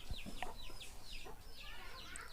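A native country chicken clucks repeatedly in short, uneven bursts, faint and a little distant, over steady background noise in a village.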